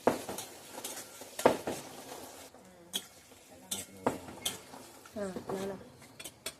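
Peanuts stirred in hot oil in a pot over a wood-fired stove, giving repeated scraping and rattling knocks over a low sizzle, fairly close.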